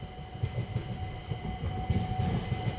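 Passenger train rolling along a railway line near the Camden Highline, a steady rumble with rhythmic clattering of wheels over the track, fairly quiet and continuous, with no talking.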